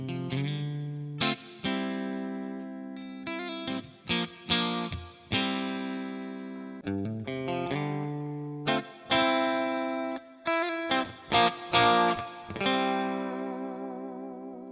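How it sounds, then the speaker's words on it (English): Electric guitar played through a Fender '65 Twin Reverb amp capture, with picked single notes and chords in an irregular rhythm, sustained ringing tones and reverb tails, close, loud and alone. "I'm using a Fender 65 twin reverb, and this is the sound of that."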